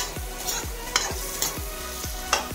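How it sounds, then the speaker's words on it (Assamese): Fried star fruit stirred in a pan for an Assamese fish curry, a spoon striking the pan in a regular rhythm of sharp knocks over a soft, continuous sizzle close by. "মই অকণমান লৰাই দিওঁ"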